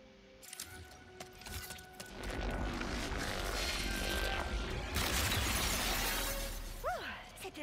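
Glass shattering in the Ratchet & Clank video game on the planet Blizar, a sharp burst of breaking and tinkling shards amid game effects, with a voice talking over it.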